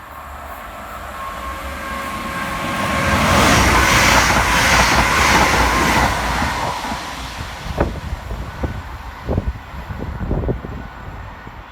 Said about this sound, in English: While passing fast in the opposite direction will be 380-101, working 1K24 for Scotrail from Ayr through to Glasgow Central.